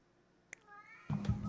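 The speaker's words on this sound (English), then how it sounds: "my cat's yelling at me over there for some reason" A pet cat meowing loudly indoors, a drawn-out yowl from across the room followed by louder overlapping sound as a person talks over it.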